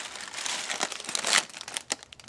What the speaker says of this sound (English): I just unwrapped it here.